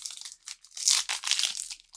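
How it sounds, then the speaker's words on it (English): A dog crunching on something, a run of crisp close crunching and crinkling bursts that come in quick irregular bites for about two seconds, with no talking. "Nobody wants to hear you crunching."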